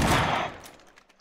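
A single loud, close blast from a propane tank in a video game bursts at once and then fades quickly into a short rumbling tail, with no voices.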